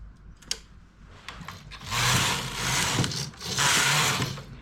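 A knitting machine carriage slides across the needles with a soft mechanical click, then two long, loud rasping passes that swell and fade, close and without talk.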